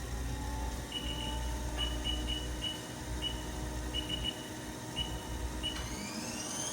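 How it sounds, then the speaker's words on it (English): A 2019 Haas CL-1 CNC lathe spindle runs at speed, a steady high whine over a low mechanical rumble with short repeated beeps and a rising tone near the end, with no talk. "we'll go ahead and do a spindle test now"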